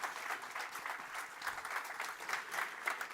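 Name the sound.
warm applause at a conference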